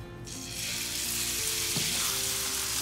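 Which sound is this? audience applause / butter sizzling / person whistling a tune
butter sizzling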